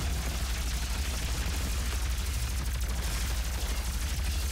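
Heavy gunfire from a cannon in the 2016 Doom video game, a dense continuous barrage of booming shots with rumbling low end, loud and close throughout, no voices.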